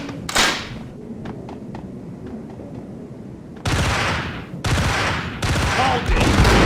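Gunfire in Max Payne: a few sharp distant shots and faint clicks, then loud bursts of close, rapid fire in three separate volleys, with heavy impacts and a voice briefly heard in the mix.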